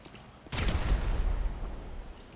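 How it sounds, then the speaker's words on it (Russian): Gunfire in the video game GTA Online: a sudden loud blast with a rolling, rumbling decay, like a volley of shots echoing in an open area. It is heard alone for about two seconds. "ты через что-то стреляешь, что ли, или что?"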